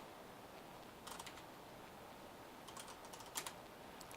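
Telnet password being typed on a computer keyboard: two quick bursts of light key clicks, faint and close, over steady background hiss with no talking.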